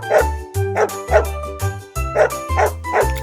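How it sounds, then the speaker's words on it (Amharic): A dog barks repeatedly in a steady rhythm, with about eight sharp, loud barks close by and short pauses between them. "ጎበዝ ልጆች፣ ውሻ ነው።"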